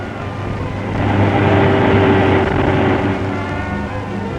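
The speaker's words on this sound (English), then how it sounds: "the boats come splashing, dashing past at close quarters" Loud, steady engine roar of motorboats racing by, swelling and fading slightly with rushing wind and water noise.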